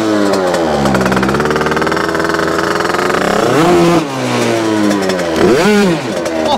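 A tuned scooter engine runs loud and close, revving in sustained high-pitched bursts with two quick dips and rises in pitch, buzzing harshly with no talking over it.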